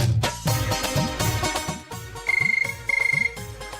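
A telephone ringing when calling home, an electronic ringtone with short trilling bursts heard over dramatic background music, with no voices.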